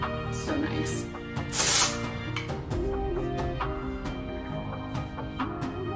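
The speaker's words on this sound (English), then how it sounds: "Never underestimate some texture spray." Texture spray from Navy hisses onto hair in one loud burst of about half a second, close to the microphone, amid soft handling noises.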